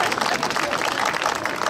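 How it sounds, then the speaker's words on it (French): A crowd at an outdoor town fair applauds, dense steady clapping filling the whole stretch at close range, with voices mixed into the din. "Vous pouvez les applaudir."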